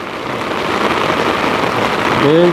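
Heavy rain pouring steadily during a storm, a dense continuous hiss close by with a brief tonal sound rising near the end.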